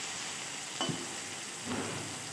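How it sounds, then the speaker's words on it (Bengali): Green chillies and nigella seeds fry in oil with a soft, steady sizzle, broken by two brief stirring noises. "কাঁচা লঙ্কাটা যখন তেলে ভাজা হয়"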